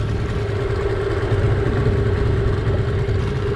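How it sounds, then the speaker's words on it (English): A small two-stroke outboard motor idles at the stern of a jon boat on the Perdido River, a steady, close putter with an even throb and no speech. "Got our little 2-stroke back there just kicking away."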